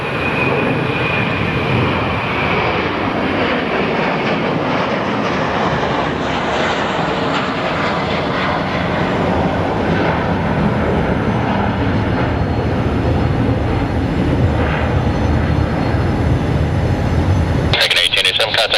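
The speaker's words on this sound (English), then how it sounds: "So this plane is off to Dallas." A Southwest jet taking off from runway 7 left at Phoenix Sky Harbor bound for Dallas, a loud, steady engine roar held throughout at close range, with a rough burst near the end.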